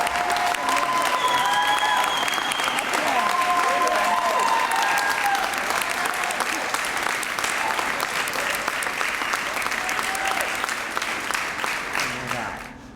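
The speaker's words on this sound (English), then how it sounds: "just one last round of applause for all their hard work." A sustained round of audience applause for graduates at a 2013 commencement ceremony for a model learning center, steady dense clapping from a large crowd that carries on evenly and tapers slightly at the end.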